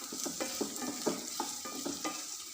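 Capsicum and egg masala sizzles in coconut oil while a spoon stirs it, giving a steady close frying hiss broken by soft rhythmic scrapes and taps of the spoon against the pan, with no voices.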